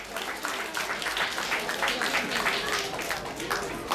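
An audience at a Utkal Divas cultural celebration at Kalamandir, Kolkata, applauds children with steady, sustained clapping that fills the hall at moderate loudness.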